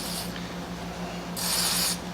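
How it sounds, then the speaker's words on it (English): Cleaner sprayed onto the rubber seals of a Husqvarna 262XP chainsaw carburetor: a short hissing burst, a pause, then a longer, louder spray, close up with a low hum underneath. "I like spraying them off just to make sure that they're completely clean"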